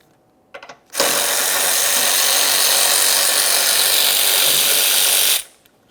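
A power tool whirs loudly for about four seconds, steady and close, as 10mm bolts holding the windshield washer fluid reservoir are backed out on a 2017-2024 GMC Acadia, preceded by a few faint clicks.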